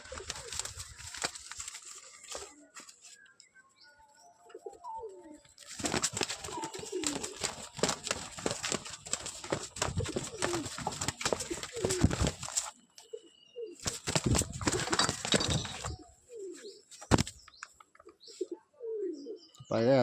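Pigeons coo and call in bursts while wings flap loudly in two long flurries, close by, with quieter cooing and chirps between the flapping episodes.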